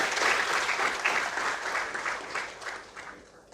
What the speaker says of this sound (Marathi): एकदा जोरदार टाळ्या त्यांच्यासाठी व्हाव्या.